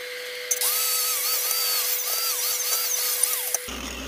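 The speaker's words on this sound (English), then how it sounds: "We'll hit those with a wire brush really quick" A wire brush scrubs slag off flux-core weld tacks with a steady, close, high-pitched whine whose pitch wavers for about three seconds, then stops abruptly.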